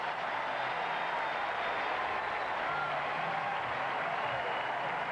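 A capacity crowd at Fenway Park cheers for Manny Ramirez as he takes left field against the Cleveland Indians: a steady, broad wash of distant crowd noise that holds level throughout, with no talk over it.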